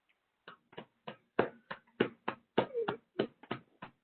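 Scattered hand claps at a community board meeting, a dozen or so uneven sharp claps spread across a few seconds, fairly close, with no talk over them.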